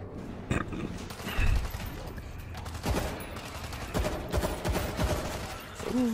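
A heavy shotgun fires in the video game World War Z, several booming blasts at uneven intervals amid a dense backdrop of other gunfire and combat noise, with voices speaking briefly near the end.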